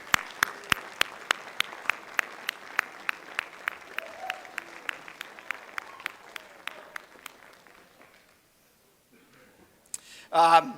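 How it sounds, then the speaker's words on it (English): Applause at a Dickinson State University fall commencement ceremony in North Dakota, heard as a series of sharp, evenly spaced claps that gradually thin out and fade, followed by near silence and a brief burst of voice at the end. "Face them and give them a round of applause"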